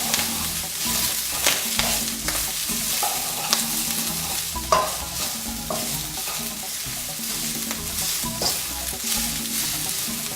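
Vegetables stir-frying in a hot wok for an Indian Bombay-style stir fry, giving a steady close sizzle broken by repeated clattering tosses and scrapes, with no one speaking.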